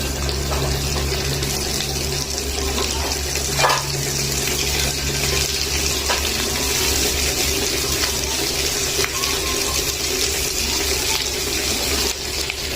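Beef tikia kebabs deep frying in hot oil give a steady, close, loud sizzling hiss that runs unbroken for the whole stretch, with a few faint pops and a low hum underneath and no talking.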